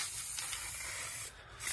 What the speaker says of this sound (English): I'm gonna start out by spraying this super close and just holding it in a little bit.